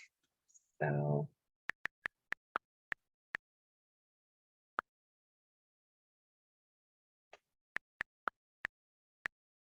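Computer keyboard keys click in quick, sparse bursts, close and quiet, a short run of taps followed by a pause and another run, with a brief voice sound near the start.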